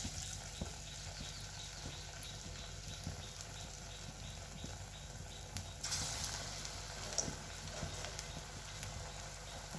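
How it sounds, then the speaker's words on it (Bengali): Flattened raw banana kofta balls fry in hot oil in a kadai, giving a faint, steady sizzle with soft crackles and a brief louder burst partway through. "একে একে সব বড়াগুলো ভেজে নেব"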